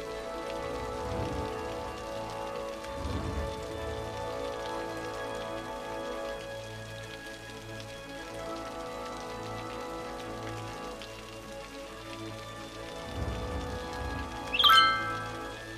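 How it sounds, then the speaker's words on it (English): Steady patter of rain in the city-building game Cities Skylines, a soft continuous wash over a faint ambient tone, with a few low rumbles and a brief chime near the end. "will it please stop raining?"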